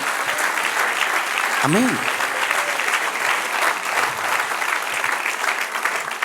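A church congregation applauds the Lord during a sermon, with continuous clapping and a brief spoken voice partway through.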